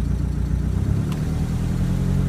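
Mercedes 190d W201 diesel engine idling with the revs brought up, a steady low, close rumble that rises slightly, with a faint brief click partway through.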